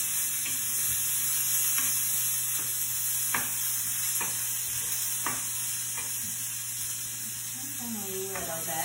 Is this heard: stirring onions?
yes